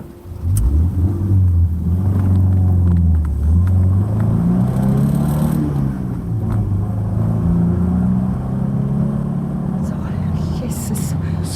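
A chauffeur-driven car in a radio drama, its engine rumbling and rising and falling in pitch as it drives steadily for several seconds under a continuous background.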